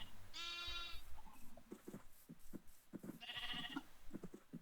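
Sheep in a video game bleat twice, two distinct wavering calls about three seconds apart, heard over soft clicking and thumping gameplay sounds at low volume.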